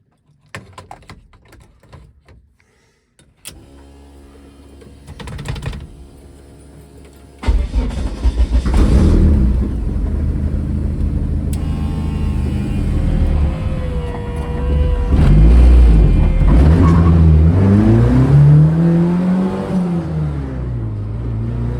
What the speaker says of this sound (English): we're gonna start up the car and maybe it'll go for a drive